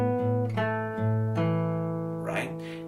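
Fingerpicked acoustic guitar plays L.A. Freeway, alternating low bass notes on the sixth string with melody notes on the second string in a steady pattern. The playing is close and clear, and a pull-off is heard near the end.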